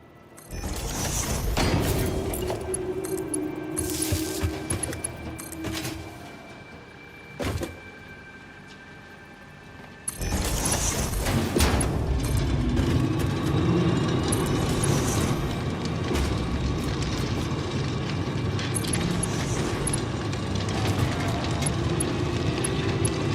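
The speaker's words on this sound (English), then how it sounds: "This little factory's whirring away." Steady mechanical whirring and humming from factory machines in the video game Satisfactory, running continuously at moderate level with a brief dip midway before resuming.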